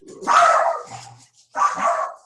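A dog gives two sharp barks separated by a brief pause, close and clear with no talking.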